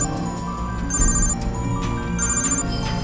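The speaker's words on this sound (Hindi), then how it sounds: "उसके फोन पर डीएसपी का फोन आ रहा है भाई" A phone rings with repeated high electronic trill bursts over a steady background of music and room tone, no voices.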